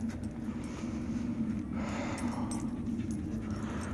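A small cockapoo dog makes soft, quiet sounds close by, faint panting and snuffling with a slight whimper over a low indoor background.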